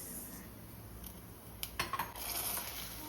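Pieces of charcoal drop into a container in a short cluster of hard clinks and clatters, close and fairly quiet, over a faint steady background.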